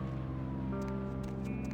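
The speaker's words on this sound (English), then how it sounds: "What's up with the gunshots and sirens?" Sirens wail in the video game Vampire: The Masquerade, gliding tones layered over a steady street-traffic hum at a moderate distance, with brief higher chirps breaking in; no one speaks.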